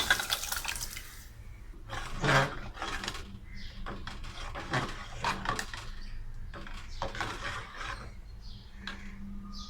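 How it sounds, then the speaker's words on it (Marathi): Water pours and splashes into a cooking pot of dal in a continuous stream, with occasional clinks of metal. "पाणी घालूया."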